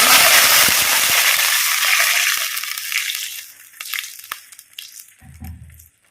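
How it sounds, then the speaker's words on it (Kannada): Water from rinsing the blender hits ground batter frying in a hot pan and sets off a loud, hissing sizzle. The sizzle fades over several seconds into softer crackles and a few light clinks. "ಈಗ ಇದು ಫ್ರೈ ಆಗುವಾಗ ಈ ಮಿಕ್ಸಿ ತೊಳೆದ ನೀರುಂಟಲ್ಲ ಗ್ರೈಂಡ್ ಮಾಡಿ ಮಿಕ್ಸಿ ತೊಳೆದೇವಲ್ಲ ಆ ನೀರನ್ನು ಇದಕ್ಕೆ ಆ್ಯಡ್ ಮಾಡಬೇಕು"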